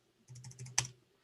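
Short burst of typing on a computer keyboard, several quick close key taps followed by one sharper clack, then quiet.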